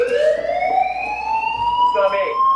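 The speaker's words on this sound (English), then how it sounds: "They're testing the fire alarm system." A fire alarm system under test sounds a loud electronic wail, its steady rising tone with harmonics holding throughout, with faint speech underneath.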